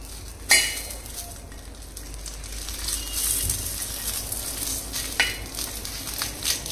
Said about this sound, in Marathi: तर हा कांदा मी व्यवस्थित भाजून घेत आहे